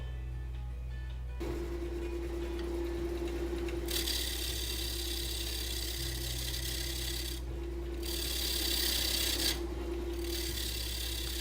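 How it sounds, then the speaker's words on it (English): A carbide roughing tool cuts a wooden bowl blank spinning on a lathe, producing a loud, continuous rasping scrape in long passes over the steady hum of the motor. "Using a carbide roughing tool, I begin to remove the sharp corners of the wood and start to shape the bottom of the bowl."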